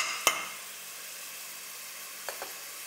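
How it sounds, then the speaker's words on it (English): Onions braising in a curry pot for mutton bunny chow give off a soft, steady sizzle, broken by a sharp pop early on and two faint clicks near the end. "So we're just braising the onions."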